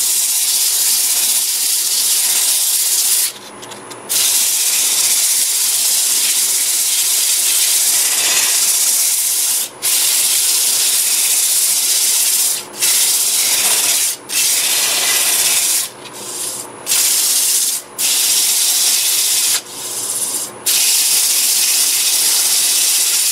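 Sandpaper held against a spinning wood-turned padauk bowl on a lathe gives a loud, continuous rushing scrape, broken by several brief pauses as the paper lifts off, with no talking.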